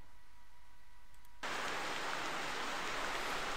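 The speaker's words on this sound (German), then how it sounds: "Jetzt müssen wir nur noch einmal den Regen etwas leiser machen" Rain in the hunting video game theHunter (2015): a dense, even hiss of rainfall that stops briefly, then jumps back in at full strength and keeps pouring steadily.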